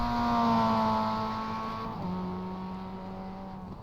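Mazda MX5 race cars passing on the VIR Grand Course track, engines droning loudly at steady pitch with a downshift drop partway through, fading slightly as they move away.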